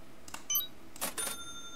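A cash register at a supermarket checkout in a video game gives a few faint electronic chimes and beeps with a short mechanical rattle, heard alone.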